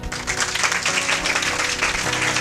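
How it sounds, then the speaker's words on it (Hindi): Dense applause from a church congregation during a Christian worship gathering, a steady wash of many hands clapping that holds evenly for a couple of seconds without a break. "ऐसी ताली क्यों बजा रहे हो?"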